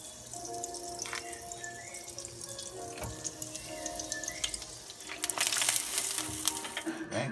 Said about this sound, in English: Then you fry it.